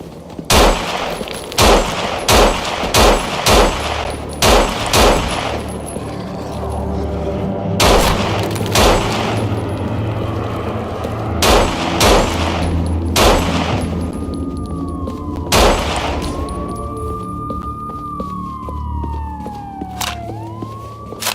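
Gunfire in the zombie game No More Room in Hell: sharp single shots fired in quick rhythmic bursts, loud and close, with gaps between volleys and a rising-falling siren wail sounding later.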